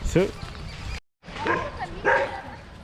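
A dog gives a few sharp barks, one early and two more after a brief pause, fairly close by, at the crumbling ruins of Lodhi Fort in Ludhiana, Punjab.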